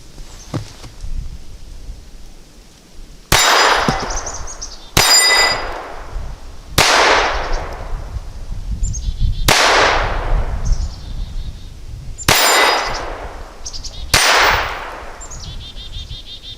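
Six sharp, loud pistol shots from a Ruger LCP II Lite Rack .22 caliber handgun fired at short range outdoors, each crack followed by a ringing metallic clang, spaced irregularly a second or two apart with no talking.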